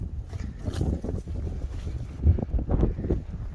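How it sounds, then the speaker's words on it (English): Gusty wind buffeting the microphone outdoors, low rumbling bursts rising and falling over a steady rushing background. "it's always windy and it's always dusty"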